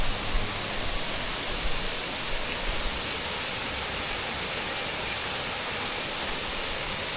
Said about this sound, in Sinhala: මෙන්න මේ පුංචි දියපාරෙන් තමයි ඔය ලස්සන සොලබොල ඇල්ල කඩා වැටෙන්නේ